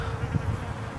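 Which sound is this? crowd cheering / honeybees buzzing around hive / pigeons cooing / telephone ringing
honeybees buzzing around hive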